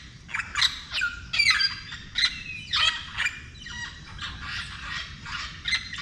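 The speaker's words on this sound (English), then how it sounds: "that's a huge parrot." Loud, harsh parrot squawks repeat in a rapid, irregular series over a steady low outdoor rumble, close and clear, at a nature and wildlife spot in Costa Rica.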